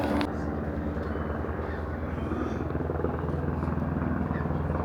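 Loud, close helicopter rotor thumping in a steady rapid rhythm as it comes in to land near Everest, with engine roar filling the background throughout.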